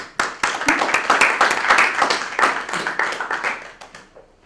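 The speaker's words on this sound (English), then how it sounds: "let's give a big round of applause for our roasters for today" A small audience claps for the roasters at a comedy roast, a lively run of distinct, close hand claps that swells, holds and then thins out and stops near the end.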